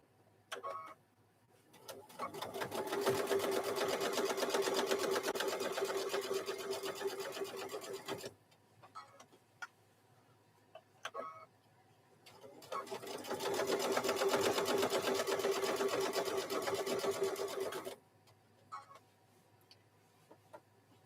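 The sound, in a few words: sewing machine stitching a microwave bowl koozie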